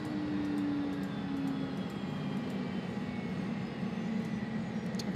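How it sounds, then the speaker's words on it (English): Small airplane engine winding down on the ground after landing at Aspen airport, a steady broadband rumble with a fading tonal hum, close and continuous with no talk. "Shut the engine down."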